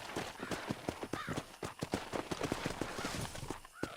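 A horse gallops in Red Dead Redemption on PS5, hooves beating out a fast, continuous clip-clop rhythm at close range, with low game ambience and no clear talk.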